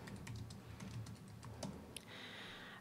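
A command being typed on a computer keyboard in a terminal window makes quick, soft, close key clicks in a steady run, then a brief pause and one final keystroke, faint and quiet with no voice.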